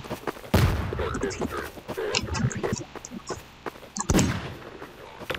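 Gunfire and grenade explosions in Garry's Mod, with sharp bursts of shots and heavy booms at close range, two big blasts standing out among rapid reports.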